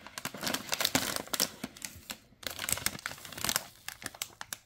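A plastic bag of sour cat-shaped Schnups sweets from Beauty Sweeties GmbH crinkles close up in quick irregular bursts of crackling, handled for several seconds with no speech.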